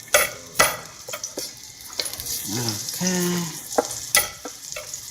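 Garlic hits fresh oil in a pan and crackles with intermittent sharp pops and clatters of the pan, and a brief word is spoken partway through.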